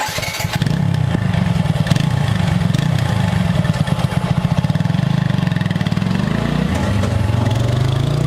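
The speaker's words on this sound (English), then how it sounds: "The exhaust note is unique, and if you want to take a listen to the exhaust note" A TVS Apache RTR 160 4V motorcycle idles with a deep, throbbing note from its double-barrel exhaust, loud and close, its rapid pulsing beat steady and slightly shifting in pitch.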